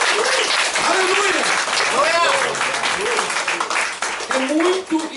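A church congregation applauds steadily throughout, a dense, sustained wash of clapping mixed with shouting and exclamations from the crowd during a worship service in Japan.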